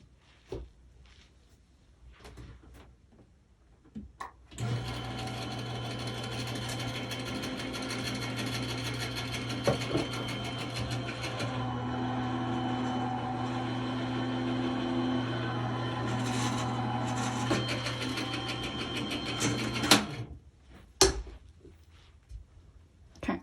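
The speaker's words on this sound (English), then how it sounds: "you're going to run it through your die cut machine just like this" A die cut machine runs a stencil plate through, giving a steady motorized whir with a low hum for about fifteen seconds, framed by handling clicks and knocks before and after.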